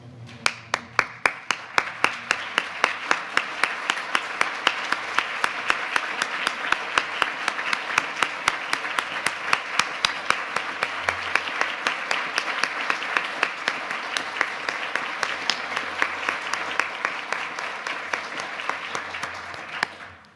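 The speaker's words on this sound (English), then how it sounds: "stand and offer a round of applause for all our generous donors" A standing crowd of students, faculty and staff at a scholarship luncheon applauds for a long stretch, many hands clapping loudly with rhythmic claps cutting through before it slowly thins and fades out.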